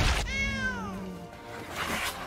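A real cat meows once, drawn out and clear with a falling pitch, nearby, followed by a short fainter second sound, with no talking.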